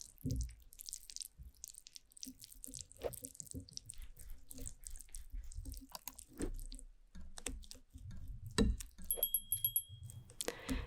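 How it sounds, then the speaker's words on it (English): Waffle batter ingredients whisked by hand in a bowl, faint close-up soft tapping, clicking and wet slapping strokes at an irregular pace, quiet and intimate with a few small clinks. "Now I'm mixing thoroughly all the ingredients with a whisk"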